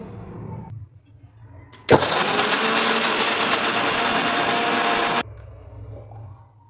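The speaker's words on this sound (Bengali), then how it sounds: "একটা মিক্সি বাটি নিয়ে নিয়েছি, পেঁয়াজগুলো দিয়ে দিলাম, আদা, অল্প জল, পেস্ট করে নেব।" A kitchen mixer grinder blending onions, ginger and a little water into paste starts abruptly and runs loud and steady for a few seconds, then cuts off, with quieter room sound on either side.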